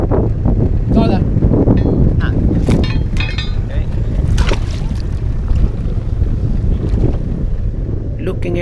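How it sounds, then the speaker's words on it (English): Gusty wind buffets a microphone aboard an anchored sailboat, steady roaring noise with water sounds underneath and bursts of talking in Swedish and English. "it is a bit windy. The wind is coming from the open field."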